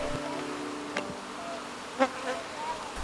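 Bees at an opened hive give a faint, thin buzz with a couple of brief louder passes near the listener, over quiet background.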